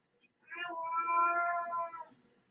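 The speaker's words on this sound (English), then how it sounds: "My cat just meowed." A cat gives one long, drawn-out meow that swells and then trails off, loud and close by, with no talking over it.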